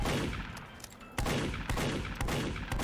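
Spy weapon reloading at normal speed in a competitive video game, a series of sharp mechanical clicks and clacks at a steady rhythm, close and loud against a constant background.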